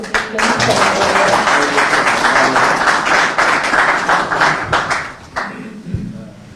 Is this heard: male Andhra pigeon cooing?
no